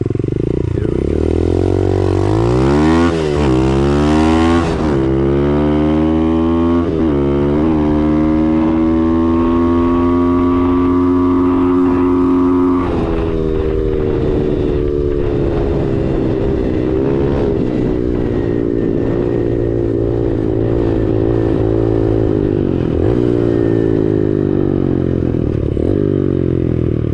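An X-Pro Storm 125cc pit bike takes off at full throttle with a loud, close engine that rises through the gears in repeated climbing whines, then holds a high, strained drone.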